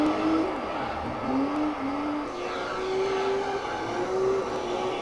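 Race car engine in Gran Turismo 3 held at high revs while drifting, a loud steady drone with the pitch stepping up through gear changes and slight waver.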